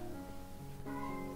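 A cat meows and cries in the background of an indoor art session, with a couple of drawn-out, tonal wails that stay fairly faint.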